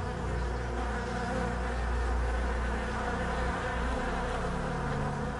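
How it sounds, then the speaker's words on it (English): Honeybees shipped in to pollinate spring blossom make a dense, continuous buzzing hum that stays steady and fairly close throughout. "Honeybees."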